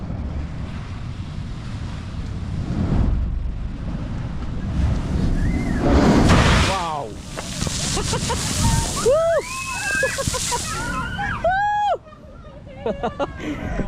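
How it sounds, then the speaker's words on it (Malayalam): Sea water surges up out of a hole in coastal rocks, a rushing gush that peaks midway with wind noise, followed by excited shouts and whistling-like voices from people nearby. "ഈ കുഴിയിൽ നിന്ന് ഇങ്ങനെ വെള്ളം ഇങ്ങനെ അടിച്ചു കയറി വരും"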